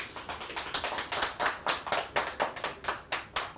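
A team claps together, a quick, steady run of sharp hand claps, fairly close and loud, with no voices over it.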